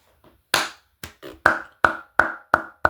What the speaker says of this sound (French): Je l'applaudis parce qu'elle est merveilleuse.